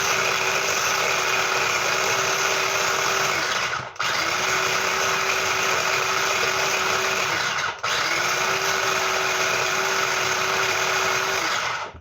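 A food processor pulses bread into fine breadcrumbs in three long bursts of steady, loud motor whirring, each roughly four seconds long and broken by brief pauses.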